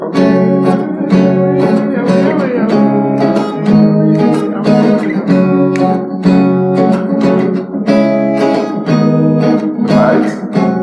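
Acoustic guitar strummed at a quick, steady pace through the chords of a song, dense and loud with regular strokes throughout and no voice.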